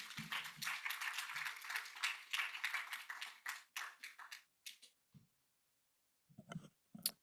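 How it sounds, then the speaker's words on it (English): Scattered audience applause at a nonprofit event, a modest group of hands clapping that soon breaks into sparse individual claps and brief taps with gaps of quiet. "please give them a big round of applause and bring them in"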